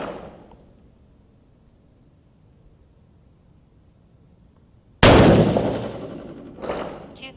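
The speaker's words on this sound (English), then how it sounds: "We're going to shoot these 5 on the center dot." Gunshots fired over a chronograph in a primer test: after several seconds of near silence, two loud, sharp reports about a second and a half apart, each trailing off in a decaying echo.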